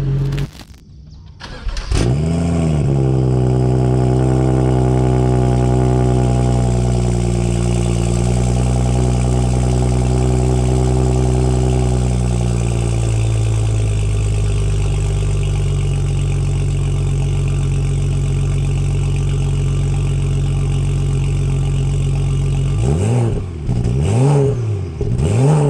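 A BMW 335 with a new downpipe and its catalytic converter removed starts up, then idles loudly and steadily with a deep droning rumble, and gives a few quick revs near the end.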